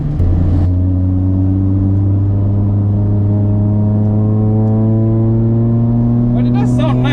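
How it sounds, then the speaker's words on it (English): Toyota Vios Challenge race car exhaust droning steadily at high revs from inside the cabin, a loud sustained engine note with stable harmonics throughout, briefly changing pitch at the start. "But it does sound nice though, this exhaust."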